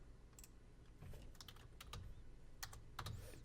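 Keys clicking on a computer keyboard while typing a short word into a web design tool, delivered in a few quick bursts of close, crisp taps over a low background hum.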